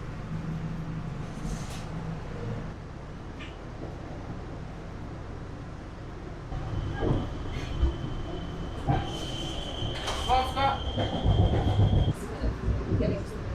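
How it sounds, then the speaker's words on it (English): Interior of a commuter train heading into Boston, with a constant rumble that grows louder midway, wheels clattering over track joints and a high metallic squeal; faint voices can be heard. "We'll start the video on the commuter train heading into the city"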